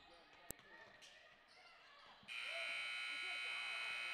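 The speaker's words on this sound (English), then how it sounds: "with that buzzer, that's the end of the first quarter" A loud, sustained electronic buzzer sounds in a gym to end the first quarter of a girls' high school basketball tournament game, cutting in abruptly after sneaker squeaks and a ball bounce.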